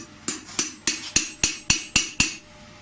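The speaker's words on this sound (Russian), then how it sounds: "Накернить, чтобы в это место сверло становилось, не бегало, а просто сверлилось." A hammer strikes a center punch to mark metal for drilling, eight sharp, evenly spaced metallic taps close up, each ringing briefly before the next, with no talk.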